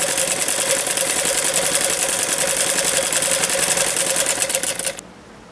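Sewing machine stitching a wavy decorative seam on a trouser cuff, a loud, fast, even whirring run heard close up that stops abruptly near the end.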